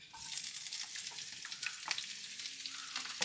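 Chopped onions sizzle steadily in hot oil with dried red chillies in a pan while cooking clam meat thoran, a continuous bright crackle with small pops, close and alone without talk.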